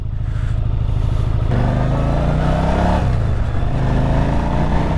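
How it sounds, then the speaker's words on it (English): A 1985 Yamaha Virago 1000 limited-edition motorcycle accelerates hard through the gears, its loud, close engine note climbing in pitch and then dropping at each shift. "Run through the gears, really nice bike."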